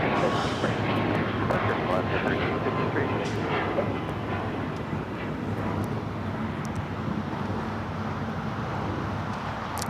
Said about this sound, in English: that 777 making that left-hand turn onto taxiway Lima